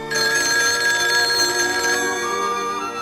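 Telephone ringing on an outgoing call, a continuous loud electronic ring tone with dense bright harmonics, heard alone without any voices.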